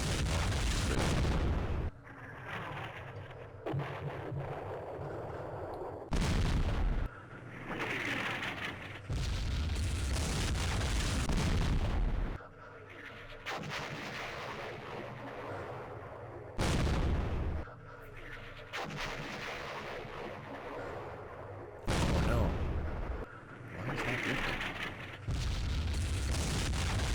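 Artillery strikes landing in the Vietnam war game Campaign Series Vietnam, repeated heavy booming explosions every few seconds with rumbling tails, moderately loud against a quiet ambient background.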